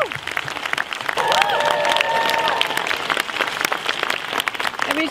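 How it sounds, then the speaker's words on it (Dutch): Audience applause filling a hall at a film premiere, steady dense clapping with some cheering across the clip, a whistle-like tone in the middle, and voices faintly mixed in. "Dus applaus voor die mensen graag."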